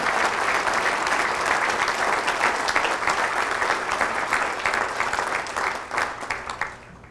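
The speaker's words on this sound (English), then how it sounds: "Just give a round of applause for the heroes we lost on 9/11" A full room claps steadily in tribute to the heroes lost on 9/11, dense and sustained before thinning into scattered claps at the close, with no speech over it.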